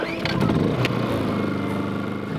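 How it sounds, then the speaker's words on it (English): Honda 2000 portable generator running steadily at anchor, a loud, continuous engine drone with a low rumble that holds even throughout. "we're going to use a Honda 2000 to test the charger"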